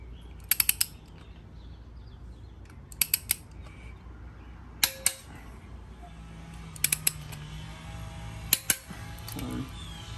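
A wrench clicks in short bursts while bolts are tightened on a Genesis Coupe cylinder head, giving sharp metallic ratchet ticks in small clusters separated by quiet pauses, close up with faint workshop hum.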